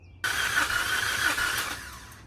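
A Ford EcoBoost car engine cranks and starts after a head gasket repair, with a sudden loud starter whine that settles into a steady idle with a faint belt squeal, close by and with no talking.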